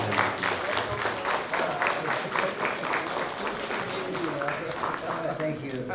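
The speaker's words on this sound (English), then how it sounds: "Here's round of applause." An audience at a public health meeting on cholera and gastroenteritis response applauds, with sustained, fairly distant clapping and a few voices underneath.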